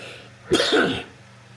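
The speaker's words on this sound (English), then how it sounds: "Sorry, a bit of a cough here." A single close cough, sharp and throaty, with a brief rough tail, alone in a quiet room.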